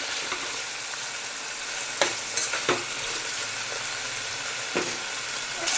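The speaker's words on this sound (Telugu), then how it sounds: "కొంచెం బాగా ఫ్రై అవ్వాలి." Cardamom pod and bay leaf sizzle in hot oil for pulao, a continuous close frying hiss broken by a few brief clinks or pops.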